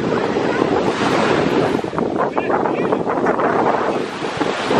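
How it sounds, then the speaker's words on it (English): Heavy surf crashes continuously with strong wind buffeting the microphone, a loud, steady roar with no pauses. "Yeah, them waves hard,"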